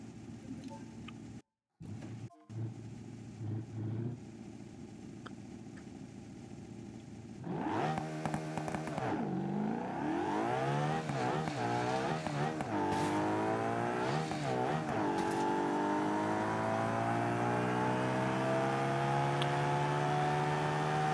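A boosted drag car engine in the BeamNG driving game revs hard, whining up through repeated gear pulls, then holds a loud, steadily rising roar for many seconds after a few quieter blips at the start.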